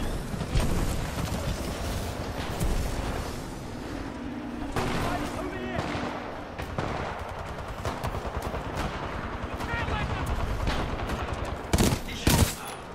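G2 rifle gunfire in the video game Titanfall 2, heard as repeated bursts of shots among other battle noise and explosions, mostly steady and fairly loud, with a player talking at times.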